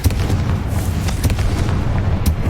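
A Confringo blasting spell goes off in Hogwarts Legacy: a dense, continuous rumbling blast with a few sharp bright cracks layered over heavy low booming, loud and close throughout.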